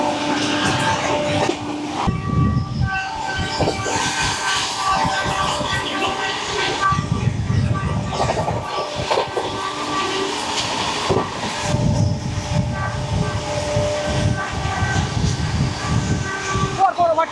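The Puri–Howrah Shatabdi Express runs at speed, with a continuous loud rumble and rhythmic wheel clatter, gusts as other trains rush past, and intermittent talking over the noise.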